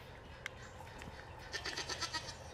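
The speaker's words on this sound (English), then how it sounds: "Oh, I forgot we had goats." Goats bleat on a farm, a sharp cry early on followed by a cluster of quick, nasal bleats near the end over a quiet background.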